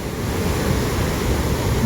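Water pours in a heavy, continuous torrent over the overflowing Shetrunji Dam near Palitana, a dense roaring wash that stays loud and steady throughout with no voices.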